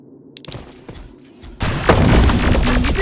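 Gunfire and explosions erupt in Terminator: Resistance: a few scattered shots and thumps at first, then a loud sustained barrage of heavy booms and rapid fire dominating the rest, with no clear talking.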